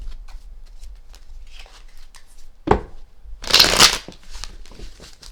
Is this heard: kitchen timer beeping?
no